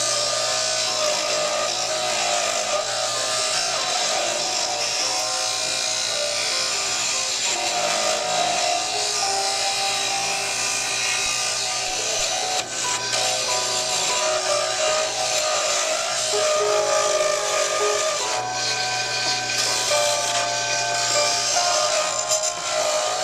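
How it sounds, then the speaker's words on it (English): A pen blank spins on a wood lathe while a flat chisel shaves it down, producing a continuous, loud scraping and rasping over the steady motor hum, with no pauses. "So I'm going to grab the flat chisel."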